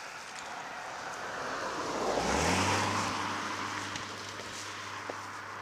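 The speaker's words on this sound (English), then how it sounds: "Oh, car coming, Mike." A car approaches from a distance, swells to a broad rushing roar with a falling pitch as it passes close by, then fades away.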